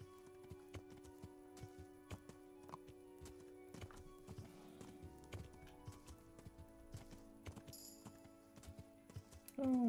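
Horse hooves clip-clop at a steady walking pace in the medieval game Kingdom Come Deliverance, quiet and close, with a soft snort or whinny near the end.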